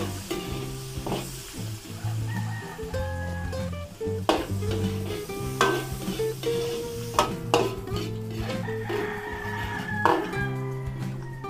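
Onions hit a pan of fragrant, browned garlic for a Filipino dish, setting off a steady, loud sizzle with occasional stirring clatter throughout.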